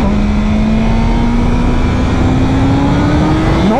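A 2023 BMW M 1000 RR motorcycle pulls hard in second gear, its engine tone climbing steadily in pitch as it revs up, loud and continuous under heavy wind rush, with no talking.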